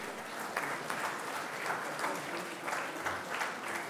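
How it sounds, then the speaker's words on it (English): Sustained audience applause for book authors at the ICAR 83rd foundation day award ceremony, a dense, even patter of many hands heard from a distance, fairly soft. "a big round of applause to all of them"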